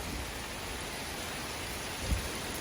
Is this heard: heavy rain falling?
yes